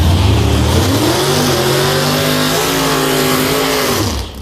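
A drag race car at Beech Bend Raceway in an outlaw 4.70/4.50 class revs hard and steadily, a loud, close, continuous engine roar with rising harmonics that fades at the end.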